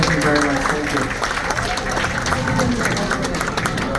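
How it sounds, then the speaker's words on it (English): A crowd applauds for Kelly aboard a ship at sea, steady mixed clapping with a hubbub of voices and cheering running beneath it the whole time. "Ladies and gentlemen, let's give a round of applause for Kelly."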